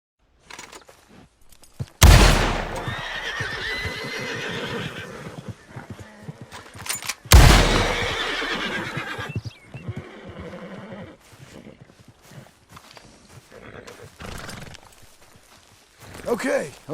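Horses in a western video game whinny and clip-clop, with two sharp gunshot-like bursts near the start and middle spooking them, amid game ambience and a voice talking.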